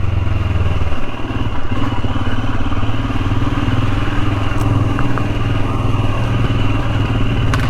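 A Royal Enfield Himalayan motorcycle rides through Cornwall, its engine a loud, steady close-up drone mixed with wind rumble throughout.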